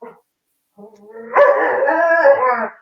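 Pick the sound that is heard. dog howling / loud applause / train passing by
dog howling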